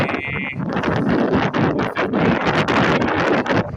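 Strong, blustery wind at Stinson Beach, California buffets the microphone throughout, a steady roar of rumbling gusts with no voices heard.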